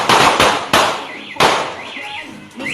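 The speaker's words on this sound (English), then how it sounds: "You're just gonna hear explosions." Sharp explosive bangs from a TikTok live stream, several loud bursts in quick succession at the start and another after a pause, with crackling tails and a car alarm's wavering tone underneath.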